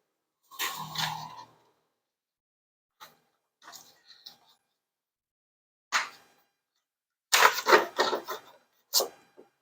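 An Epson inkjet printer, converted from dye to pigment ink, runs a test print with short mechanical whirs and clicks in irregular bursts, separated by quiet gaps, close and fairly faint, with a denser cluster of movement near the end.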